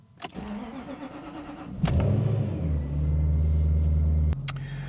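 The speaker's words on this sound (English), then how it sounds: "I'm going to start the car" A Jaguar XK8 engine with a battery problem cranks and catches, then settles into a steady low idle, with a click near the end.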